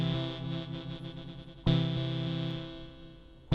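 A synth tone from an OP-Z synthesizer with LFO modulation, a buzzy, distorted sustained note that wobbles in a steady pulse, retriggered once partway through and ringing on alone.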